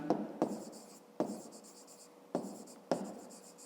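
Pen writing on paper during a fifth-grade maths exercise, a steady scratchy scribble broken by several sharp taps as the pen lifts and lands, close and moderately quiet with no talking.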